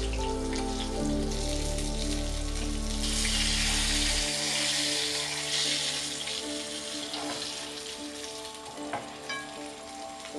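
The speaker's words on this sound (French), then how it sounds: "le frire dans une poêle avec un petit bain d'huile à feu moyen" Fish fried in a pan with a shallow bath of oil over medium heat gives a steady, close sizzle and crackle, with a louder burst in the first seconds that then settles into a continuous hiss with scattered pops and no talking.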